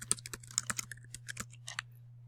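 Someone types a name on a computer keyboard: a quick, irregular run of close, crisp key clicks over a faint steady hum.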